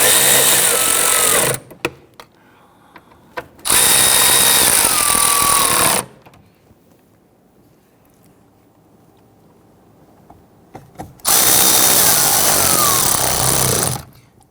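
A power tool snugs down bolts on a 2011-2014 Kia Sorento engine during a knock sensor replacement, running in three loud, close bursts of a few seconds each, with quiet pauses between them.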